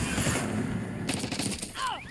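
An XM4 assault rifle in Black Ops 6 fires in rapid automatic bursts, close and sharp, over busy match noise. A few whistling, sweeping effects sound near the end.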